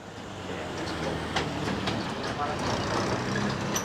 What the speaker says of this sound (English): Just in front of us you can see a train in the station. So here's a little mini train.